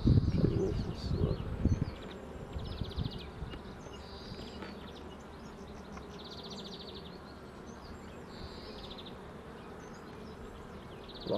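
Honey bees buzz during a beehive inspection, a dense droning hum with individual bees flying close past. Frames clatter and knock briefly at the start.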